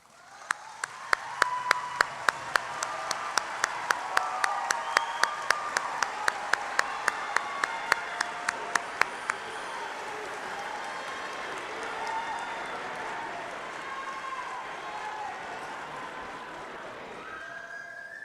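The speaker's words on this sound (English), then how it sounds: "please stand up and join with me in giving them a well-deserved round of applause" Graduation audience at a high school ceremony bursts into loud, sustained applause, dense crowd clapping with sharp individual claps up front, swelling then holding steady before fading.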